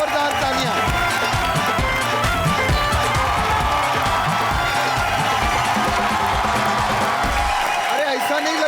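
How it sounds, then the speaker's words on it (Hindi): Studio audience on the Colors TV comedy show Comedy Nights Live applauding and cheering for actress Radhika Apte, a dense, steady wash of clapping and crowd noise with whoops, loud and continuous, mixed with music and voices throughout. "राधिका के लिए जोरदार तालियां"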